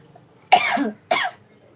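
Two quick, close coughs about half a second apart, sharp and throaty, in an otherwise quiet room.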